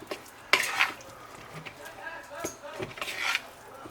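Gochujang-coated vegan chicken is stirred and tossed, giving close wet squishing and scraping with a few sharp utensil clicks against a dish, fairly quiet with no speech.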